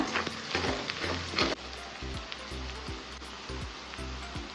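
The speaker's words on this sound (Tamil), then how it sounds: "வெங்காயம் நல்லா வதங்கிருச்சு" Onions sizzle and fry in a pan while being sautéed, a crackling hiss under repeated scraping stir strokes, fairly quiet and close, with no talking.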